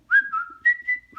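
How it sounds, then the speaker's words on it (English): A person whistles a short, clear melodic phrase of a few sustained notes, close and alone with no other sound. "Or if you can whistle,"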